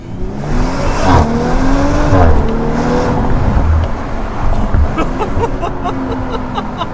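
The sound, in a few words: Audi RS5 R ABT modified exhaust revving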